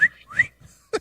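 A person imitates the whistle of thighs rubbing together while walking down a hall, voicing a couple of short rising whistle-like tones followed by a brief vocal burst, close and moderately loud.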